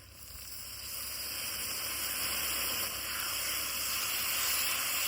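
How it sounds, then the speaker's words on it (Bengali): A paste of ground cumin, green chili, dried chili and ginger with turmeric and a little water frying in a pan, a soft, steady sizzle that grows slightly louder and continues without pause. "এবার মশলাটা ভালোভাবে কিন্তু কষে নিব"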